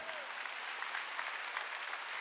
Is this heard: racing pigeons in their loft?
no